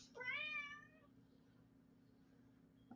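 A hungry young kitten lets out one loud, drawn-out meow near the start, close and clear over a low steady hum, followed by quiet until a faint sound at the end.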